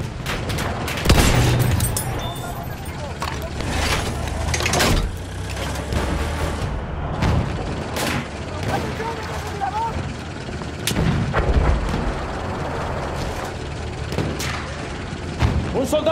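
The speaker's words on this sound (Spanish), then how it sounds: "¡Esa es una ametralladora del enemigo!" An enemy machine gun fires in Battlefield 1 amid a loud wartime battle, with repeated booming shots and bursts of gunfire over a constant rumble, and a voice shouting in Spanish.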